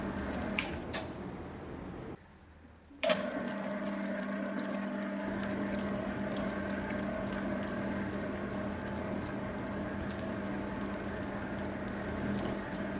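A dough kneading machine works a bun dough of 500 g flour with a steady motor hum and churning. It cuts out briefly near the start, then resumes running evenly and quietly up close.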